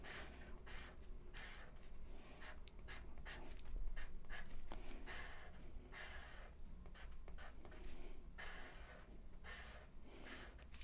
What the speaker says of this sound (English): let's color it with our pastel pencils